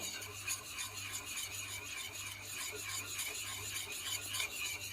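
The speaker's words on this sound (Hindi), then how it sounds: "तो अब हम थोड़े सा कॉर्नफ्लोर डालेंगे और सही तरह हमने उसको मिक्स करना है ताकि कोई लम्स ना बने" Cornflour is stirred into warm milk in a pan, a soft, steady rasping and scraping of a spoon circling the vessel, faint and continuous with no talk.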